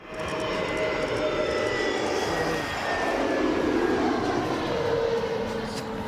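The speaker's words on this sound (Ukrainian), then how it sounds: "мені просто хочеться махати усім літакам" Propeller or jet airliner passing overhead, a steady loud broadband engine roar that fills the whole clip with a slowly shifting pitch as it moves across.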